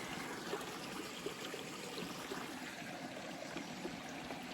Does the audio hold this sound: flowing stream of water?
yes